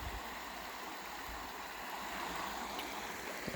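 Shallow Genesee River running over rocks, a steady close rushing and babbling of water with no talking.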